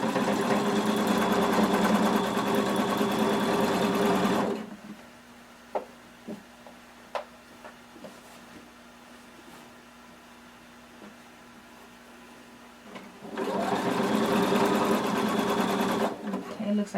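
Close, loud sewing machine running steadily along a lining seam, falling quiet for several seconds with faint clicks and fabric handling, then starting up again near the end.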